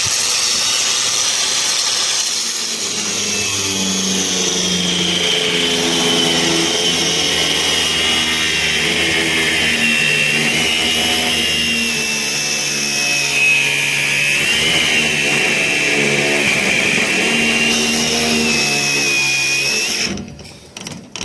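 A SHIDOKU cordless angle grinder cuts steadily, with a loud, close, high whine that rises and dips as the cut is pressed harder, lasting about twenty seconds before stopping abruptly.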